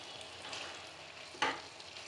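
Chicken frying with cashew paste in a pan, a soft continuous sizzle with one brief stirring scrape near the end, quiet and without speech.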